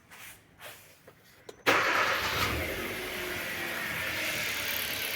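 A car engine cranks and catches after a few quiet clicks and knocks, then settles into a steady, close idle that runs to the end.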